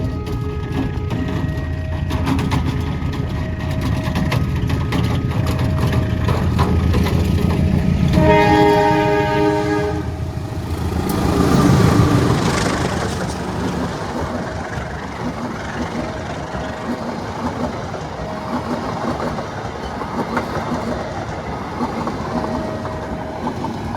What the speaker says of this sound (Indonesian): Berarti ada kereta yang lewat.